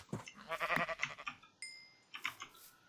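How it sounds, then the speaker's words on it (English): Sheep in the video game Minecraft bleat in a few short, wavering calls, fairly close and clear, with a brief tonal chime partway through and no talking. "Thankfully there's sheep around here."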